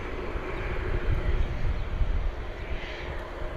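A jet airliner climbs away after takeoff from Bristol Airport, its engines a steady, broad roar that rises slightly in the middle and then eases, heard from a distance with some wind on the microphone.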